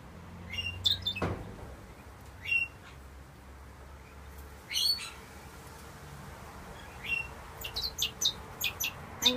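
Mixed aviary of diamond doves, stubble quail and bourke parrots, with scattered short chirps and calls, some near and some farther off, over a steady outdoor background and a brief knock.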